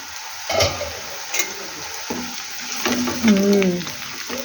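Food frying in a covered pan gives a steady sizzling hiss. A few scraping clinks and a stirring stroke come through it, and a voice hums or speaks briefly near the end.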